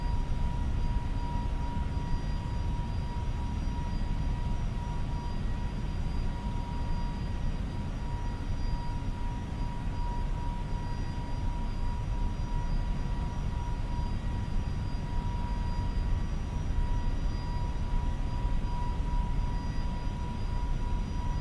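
Engines of an Air Transat Airbus A321neo in the FSLabs flight simulator hum steadily, a continuous low roar with faint high-pitched whine tones held throughout, no talk over it.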